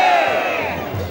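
A large crowd at a Nanda Devi Dola procession chants religious slogans, giving a loud, dense roar of many voices that stays steady throughout.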